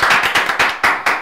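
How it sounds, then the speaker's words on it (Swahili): Sharp, rhythmic hand claps, about six evenly spaced, ring out loud and close, with no talking underneath. "makofi."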